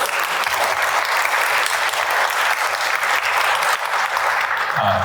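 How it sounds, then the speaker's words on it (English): Orchestra concert audience applauding a young composer, sustained, loud, thick clapping that holds steady throughout with only a slight dip near the end. "Round of applause for him composing this."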